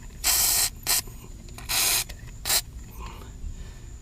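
WD-40 aerosol sprayed onto rusted running board bolts on a Ford F-150: four short, close hissing bursts, two longer and two quick, with no talking.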